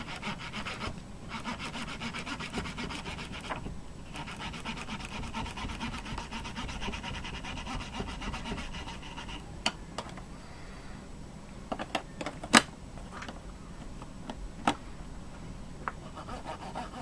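Close, steady rubbing and scrubbing on a Sega Genesis cartridge circuit board cleaned with WD-40, a continuous rasping texture broken near the end by a few sharp clicks and taps.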